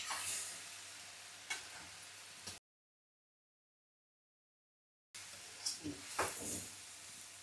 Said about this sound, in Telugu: వైట్ కలర్ తోటే చేస్తున్నాను ఫ్రైడ్ రైస్